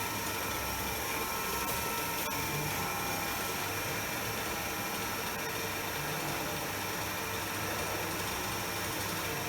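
A DC shunt motor runs steadily on a lab load test bench at constant 250-volt supply, a continuous even electrical whine and hum with a faint mechanical drone throughout.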